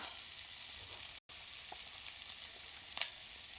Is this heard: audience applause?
no